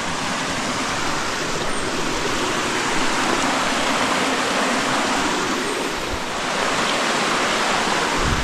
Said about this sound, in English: so this is Widow's Creek